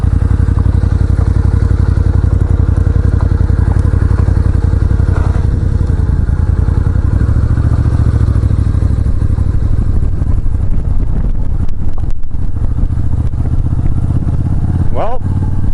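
A cruiser motorcycle rumbles steadily along a potholed gravel road, its engine drone loud and continuous, with crunching, clattering and occasional thuds from the rough surface, and the rider's voice breaking in near the end.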